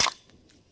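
A single sharp gunshot from a Metadyne Thumper firing test cracks loudly at the start, then fades quickly into a faint echo.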